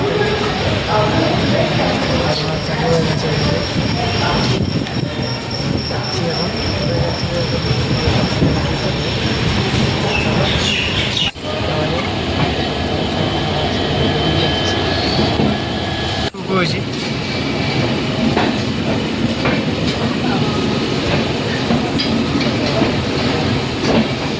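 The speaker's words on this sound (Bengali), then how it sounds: "আস্তে আস্তে ট্রেন ছেড়ে দিচ্ছে" A train pulling slowly out of a crowded station makes a loud, continuous rumble and rattle that fills the scene, with voices mixed in.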